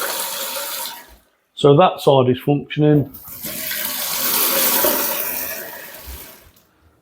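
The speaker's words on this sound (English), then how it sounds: "now we can operate the cold tap" A cold kitchen tap gushes steadily at close range, pauses while someone speaks briefly, then runs again in a sustained hissing stream before shutting off.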